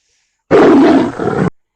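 A person's voice imitates a lioness roar in one loud, close, rough burst of about one second that falls off at the end, with silence before and after.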